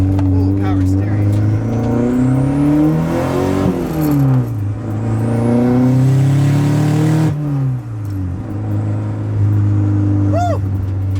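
A Nissan 240 car engine revs and accelerates hard, loud and close, its pitch climbing and falling through several pulls while people talk and cheer over it.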